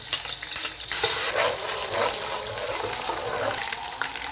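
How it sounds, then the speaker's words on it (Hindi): Ginger-garlic paste sautéing in a cup of hot oil for a mutton dish, a steady soft sizzle and hiss with faint stirring and scraping, no talk. "1 कप ऑयल लिया है मैंने। इसके अंदर अदरक और लहसुन की पेस्ट सौते करती हूँ।"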